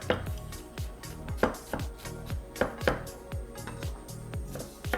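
A knife chops a red onion in quick, evenly spaced strikes, each a crisp, close thud that repeats steadily with no talking.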